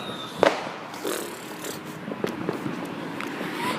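Fireworks pop and crackle outdoors at a neighbourhood backyard display, with one sharp bang near the start and then scattered, softer bursts and crackles at a distance.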